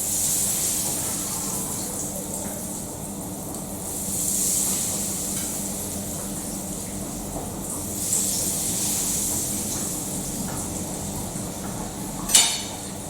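Bread with mozzarella frying in hot oil gives a steady soft sizzle and hiss, with a few brighter crackling swells and one sharp pop near the end, and no voices.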